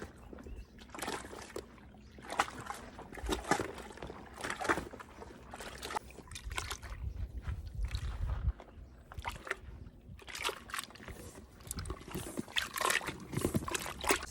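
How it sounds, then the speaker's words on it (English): A plunger agitating laundry and detergent sheets in a tub of water by hand inside a converted school bus, with irregular sloshing, gurgling splashes and thumps, fairly quiet and close. "Plunger. And you just start going at it."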